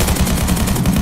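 Rapid automatic gunfire in a Roblox zombie survival game, a dense, loud burst of repeated shots filling the short moment without any talk.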